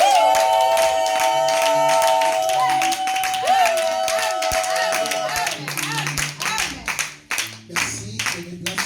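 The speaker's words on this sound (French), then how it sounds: "Nous acclamons très très fort le Seigneur parce qu'il est là" Congregation in a church clapping and acclaiming loudly, dense rhythmic applause with a sustained tone and voices at the start, the clapping growing ragged toward the end.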